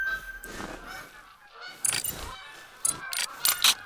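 Geese honk in a few short, bright bursts over a quiet outdoor background in the hunting game theHunter: Call of the Wild, the calls fairly near and spaced irregularly.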